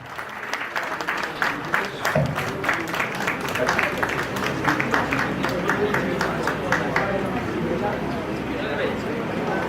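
A crowd claps warmly for an honoree at an award and felicitation ceremony, with dense, sustained applause running throughout and voices murmuring underneath.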